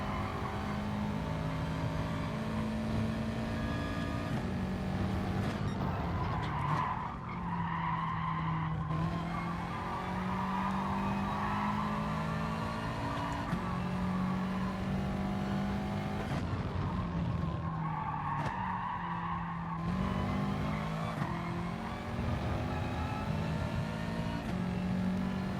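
A Ferrari race car in Gran Turismo Sport roars continuously with rising and falling engine pitch through gear changes, punctuated by sustained tire squeals and skids through corners, loud and close throughout.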